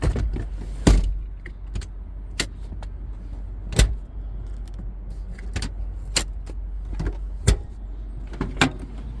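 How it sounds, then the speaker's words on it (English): Rear seat headrests in a Land Cruiser are folded down, giving a series of sharp clicks and clunks spaced a few seconds apart over a quiet background. "let me fold these down so I can put this mat back in here"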